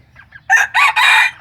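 A rooster among breeding fowl crows nearby, loud and clear in a few drawn-out rising and falling bursts, with faint clucking before it.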